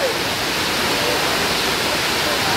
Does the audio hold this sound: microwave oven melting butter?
no